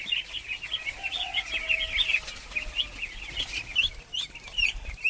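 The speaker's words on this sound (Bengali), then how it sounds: "হাঁসগুলো আজকে প্রথম পানিতে নামানো হবে" Domestic native-breed ducks on a small farm flap their wings and call in a steady, busy mix of close quacks and chirps that runs throughout without pause.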